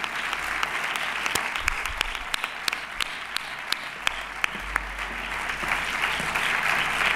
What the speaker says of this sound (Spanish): un gran aplauso para este todavía más grande deportista